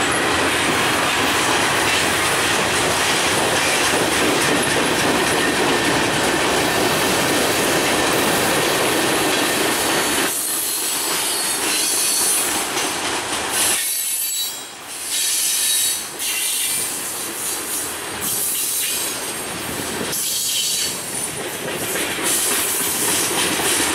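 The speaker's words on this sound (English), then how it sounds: "Probably gets there and gets that wheeling freight." A freight train rolls past on rails, loud and close, with steady rumble, wheel squeal and clickety-clack throughout, easing slightly and growing more uneven in the second half.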